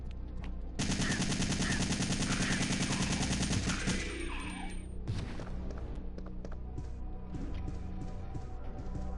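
Rapid, loud machine gun fire from a Resident Evil 3 game rattles in a dense continuous burst for several seconds, then cuts off, leaving scattered thuds, clanks and low ambient game noise.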